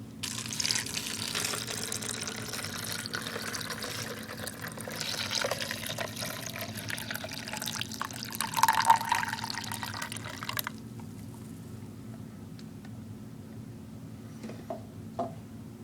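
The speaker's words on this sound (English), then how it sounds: "dump a cup of water in the top here, and we'll see how it trickles down" Water poured from a cup through a funnel trickles down into an indoor window bottle garden, a soft continuous splashing and dribbling with a brief louder gush midway before fading to faint drips.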